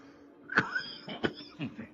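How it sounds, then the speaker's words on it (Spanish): A few sharp coughs in quick succession, close and fairly loud, with no talking. "estas son las toses de primavera"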